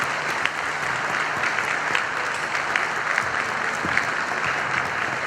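An audience applauding the sound technician at an Aragonese jota festival in Beceite, Spain, with dense, steady clapping from a large crowd that holds at an even level throughout.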